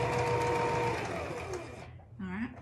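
Sewing machine stitching a child's hat, a close, steady mechanical whirr that slows and stops, followed by a short spoken remark.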